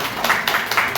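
An audience claps together at a Jain religious teaching session in Bhagalpur, a dense, steady patter of many hands close by with small swells in intensity.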